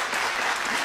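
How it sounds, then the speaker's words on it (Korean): Audience applause at a science lecture on SF films and technology, a dense burst of clapping from a crowd, loud and steady through the whole short moment. "다시 한번 박수 부탁드립니다."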